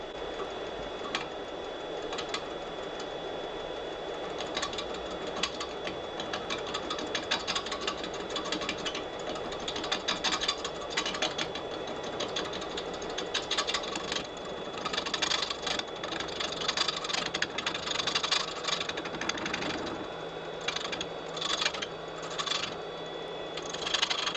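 A wood lathe runs steadily at about 300 rpm turning a closed hollow form with a carbide tool, a continuous mechanical whir broken by dense rapid ticking and scraping textures throughout.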